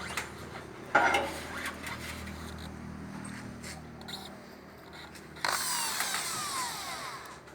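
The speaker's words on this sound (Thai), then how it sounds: "ก็ยึดด้วยสกรูนะครับตัวนี้" A power drill drives screws into roof tiles on a rooftop. It comes in two loud whirring bursts, one short and one longer, over a low background hum.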